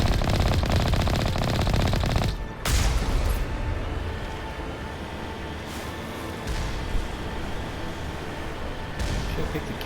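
Sustained rapid automatic fire from a weapon in Mass Effect Legendary Edition, a dense loud rattle that cuts off abruptly, followed by scattered single shots and impacts over a lingering background drone.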